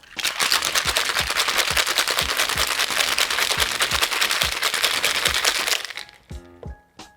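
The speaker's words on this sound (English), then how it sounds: "Now shake until well chilled." Ice rattles hard inside a cocktail shaker in a fast, steady rhythm for several seconds, then stops with a few loose clinks.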